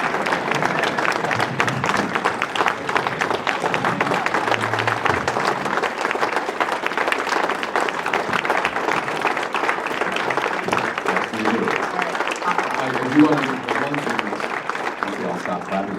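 A banquet audience applauds an award winner at a chamber of commerce dinner, a long, dense, sustained round of clapping from many hands, with voices talking beneath it.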